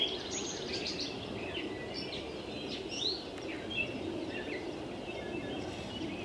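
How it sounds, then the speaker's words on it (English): Faint bird chirps and short calls at dawn scattered over a steady outdoor hiss, distant and intermittent, heard from an overnight camp. "Birds woke me up"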